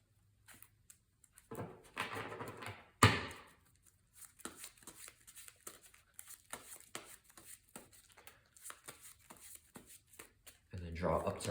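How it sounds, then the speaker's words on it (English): A deck of playing cards for a card game is shuffled in short bursts of riffling and soft flicks, with quieter handling taps between them. "And then let's shuffle up the player deck."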